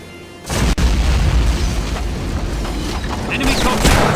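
A grenade blows up in the video game Hidden and Dangerous 2 with a loud, sudden boom that leaves a long rumbling roar, and a voice shouts over the blast.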